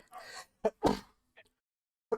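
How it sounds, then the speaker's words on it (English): A single sneeze up close: a few sharp breathy bursts, with the loudest in the middle, separated by brief silences in an otherwise quiet room. "Sneezed."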